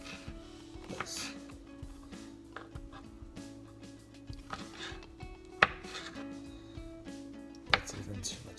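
Slicing oyster mushroom clone tissue: quiet, close knife strokes on a cutting surface come in irregular soft taps and scrapes, with two sharper clicks, under a low background hum.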